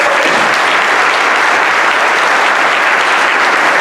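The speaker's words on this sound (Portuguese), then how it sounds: "eu queria uma salva de palmas para nossos palestrantes" A loud, continuous wash of audience applause fills a conference hall as speakers at the CBAU 2022 event are thanked. The clapping stays dense and unbroken throughout.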